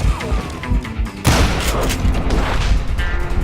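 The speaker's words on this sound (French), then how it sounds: "Henry Plummer throw dynamite at me." A dynamite explosion in the game Call of Juarez Gunslinger: a sudden loud boom that bursts out partway through, followed by a crackling rumbling tail, over busy game sound with a voice speaking before the blast.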